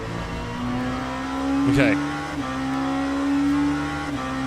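LMP2 prototype race cars in the sim game Le Mans Ultimate, with engine notes humming and shifting pitch through a brief surge and some tire noise. Someone talks over it briefly.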